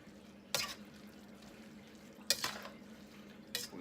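A keto shrimp stir fry with butter being stirred in a pan, with three distinct scraping clinks of a utensil against the pan over a soft, steady sizzle.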